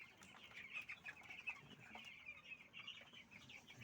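Newly arrived layer chickens in a batch of about sixty cluck steadily at close range, a busy overlapping chorus of short calls with occasional louder squawks and no talking.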